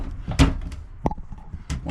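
Flimsy cabinet door inside a Cruise America rental travel trailer camper, a few light knocks and a sharp clack from opening or closing, fairly close, with faint rustling and a little background speech.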